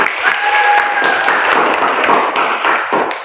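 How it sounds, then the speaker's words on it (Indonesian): A classroom audience claps for a group's presentation in a religious education class, a dense, steady patter of many hands at moderate distance. "Kasih aplaus untuk mereka"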